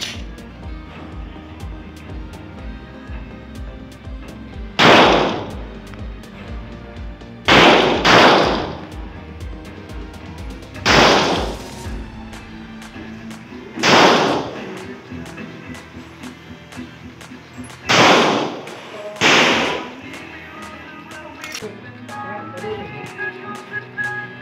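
Glock 19 pistol shots at an indoor target range about seven metres from the target, six sharp loud reports spread unevenly over the span, with some in quick pairs, over quiet background handling noise.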